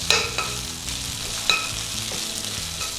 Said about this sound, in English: Give it a little bit of a stir fry to take out the rawness of the curry paste